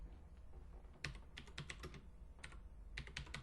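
Quick bursts of typing on a computer keyboard while entering a search term, with irregular clusters of keystrokes separated by short pauses, close and fairly clear over a low steady hum.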